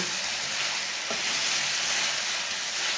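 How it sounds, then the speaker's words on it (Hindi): Chicken pota (gizzards) fry in a pan with a dense, steady sizzle and crackle, stirred with a spoon, the hiss loud and close throughout with a faint scrape partway. "अब इसे 5 मिनट तक ऐसे ही चम्मच चलाते हुए भून लेंगे।"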